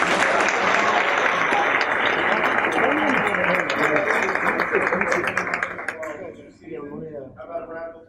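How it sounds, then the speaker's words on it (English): Audience applause for a school's conference-champion wrestling team at a high school board of education meeting, a dense sustained clapping that carries loudly for about five seconds, then thins out and fades. "How about a round of applause again?"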